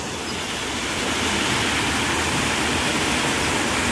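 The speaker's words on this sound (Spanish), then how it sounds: "Miren cómo va ahí la cantidad de agua." Floodwater rushes steadily through a small, partly clogged drainage pipe outlet on a flooded plot of land planted with lemon trees, a loud, continuous close-up roar with no voices.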